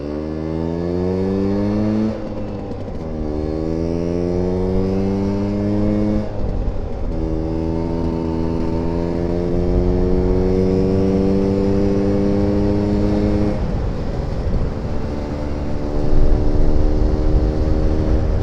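A Vespa Smallframe rat bike scooter engine revs up through rising pitch sweeps as it accelerates on a ride, dropping briefly between gears and climbing again, loud and steady close by, with no talk.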